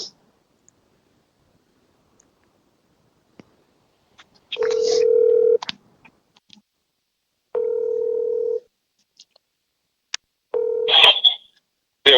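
A call placed from a second mobile phone: scattered clicks, then three ringback tones of about one second each, evenly spaced with quiet gaps between them, clear and close.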